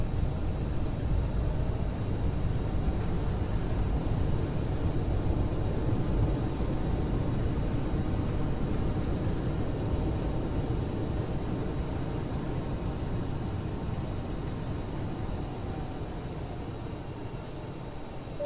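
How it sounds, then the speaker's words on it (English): An Aerosoft CRJ jet in Microsoft Flight Simulator 2020 roars loudly with reverse thrust on its landing rollout at Corfu, a broad steady engine rush that slowly fades toward the end. "Reverse thrust."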